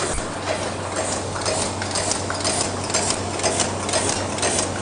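A 2.5oz paper cup making machine runs with a steady fast mechanical ticking and clatter over a constant hum, even and continuous, with no talking.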